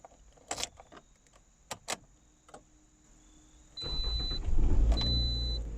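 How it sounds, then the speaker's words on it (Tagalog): A car starts with a newly duplicated key: a few jangling key clicks, then a starter crank that catches into a steady idle and grows louder near the end, with no talk. "Ngayon, subukan na natin kung aandar yung sasakyan."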